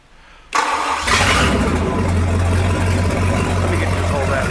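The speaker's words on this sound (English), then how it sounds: "Now we're going to go ahead and start it up." A Mercruiser V-8 marine engine being readied for transport cranks and catches, then settles into a loud, steady rumbling idle. The sound is close by, and a voice is heard faintly.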